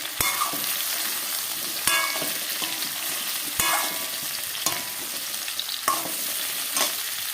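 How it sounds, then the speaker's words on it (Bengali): Vegetables fry in a pan while being stirred, giving a continuous close sizzle punctuated by sharp scrapes and knocks of a spatula every second or two, with no voices. "সবজিগুলো ফুলের মধ্যে দিয়ে দিয়ে একটু নাড়াচাড়া করে মিশিয়ে নেব"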